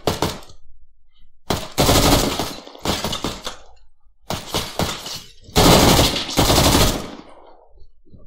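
Several loud bursts of rapid automatic gunfire from a machine gun in the military video game ArmA, fired in separate volleys of one to two seconds with brief silent gaps between them, heard alone without talk.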